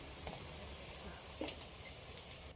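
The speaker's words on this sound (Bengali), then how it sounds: "আমি এই বড়াগুলো কিন্তু সব সাদা তেলেই ভাজা করছি।" Fritters frying in white oil in a pan give a steady soft sizzle, with a couple of brief louder crackles and stirs standing out over the continuous hiss.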